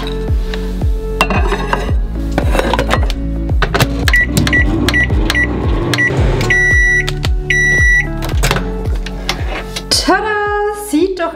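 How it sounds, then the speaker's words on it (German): A microwave oven reheating a meal hums steadily under clattering dishes, then sounds a series of loud, evenly spaced electronic beeps. "Dann gebe es in die Mikrowelle"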